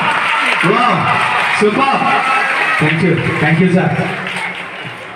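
An audience applauds a young girl performer at a stage event. Steady clapping runs throughout, mixed with voices and brief talk in the foreground.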